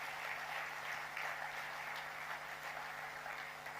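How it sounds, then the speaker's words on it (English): Audience applause for India's bronze-winning men's hockey team fills the space as a steady, dense wash of clapping that stays loud and even throughout, with no voices breaking through. "A huge round of applause, friends, for their incredible bronze."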